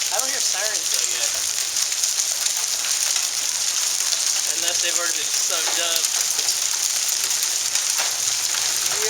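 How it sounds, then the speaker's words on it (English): Hail pelts down in a continuous dense clatter during an intense thunderstorm in Dallas, Texas. The loud, steady hiss and patter fills the whole stretch while someone speaks briefly over it. "Look at all the hail."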